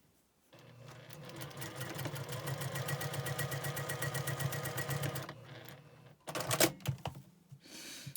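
A sewing machine stitches quilt block units in one sustained, rapid rhythmic run of about five seconds, close and clear, followed by a few short handling clatters and a brief restart.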